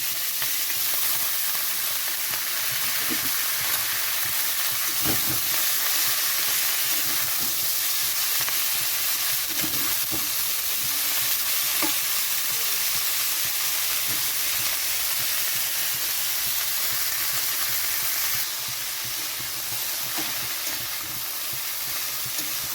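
Dried red chillies, green chillies and black cumin crackle in hot oil as cauliflower leaf greens go into the pan, giving a steady, close sizzle and hiss with faint stirring clicks throughout.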